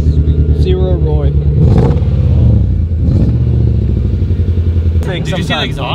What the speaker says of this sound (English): It's a stainless steel exhaust, he said.